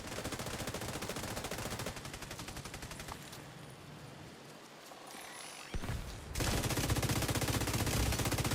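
Rapid bursts of automatic gunfire and crackling shots fill a The Division 2 firefight, dense and continuous with a brief quieter lull before the shooting surges back loud.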